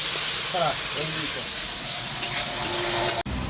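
Steady sizzling hiss of spices for a meat curry frying in a wok, with faint clinks and brief background voices, cutting off abruptly near the end.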